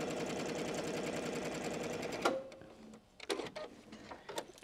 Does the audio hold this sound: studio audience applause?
no